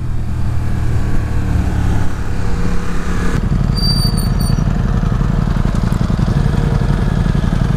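A Ducati XDiavel motorcycle rides along, its engine droning steadily and close, with a brief shift in tone partway through and wind rush underneath.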